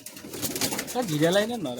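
Madrasi pigeons coo in a short, close, rolling phrase that rises and dips in pitch, with a faint voice in the background.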